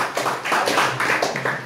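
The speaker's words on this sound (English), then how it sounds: "So please a round of applause for everybody." A classroom of students claps briefly, scattered hand claps coming in uneven bursts for under two seconds.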